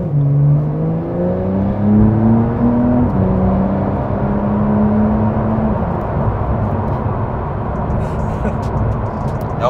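A Porsche 992 Carrera 4S in sport mode accelerates hard, its engine note climbing loud and close through a gear change before a second long pull fades into a rushing roar.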